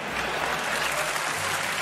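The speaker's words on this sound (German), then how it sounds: "Ja, klatsch ruhig mal." Steady crowd applause in the GTA video game, dense continuous clapping that holds at an even loud level throughout, with no voices.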